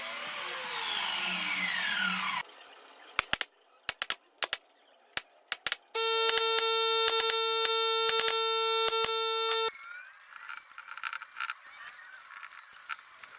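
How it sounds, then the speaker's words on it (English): A miter saw and table saw cut wood for a pirate treasure chest build, with several sharp, brief cutting bursts followed by a sustained loud whining run of a few seconds, then quieter workshop noise. "I'm going to go ahead and use my miter saw and table saw to finish up these cuts."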